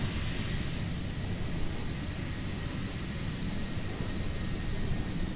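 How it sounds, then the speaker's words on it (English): Simulated jet aircraft passing nearby in Microsoft Flight Simulator, a steady broadband roar with constant engine rumble and hiss, loud and unbroken throughout with no speech. "there's a jet near me."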